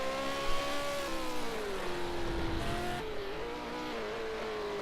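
V8 Supercars race cars at Bathurst, engines screaming at high revs as a car brakes, downshifts and accelerates out of a corner, pitch sliding down then climbing again, with no talk.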